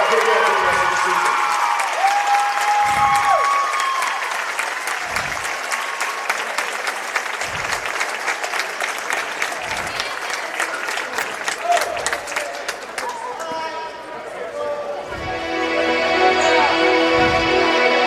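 A school gym crowd gives a player long, steady applause at a volleyball match, a dense wash of clapping with faint cheers, and a voice talking over it partway through.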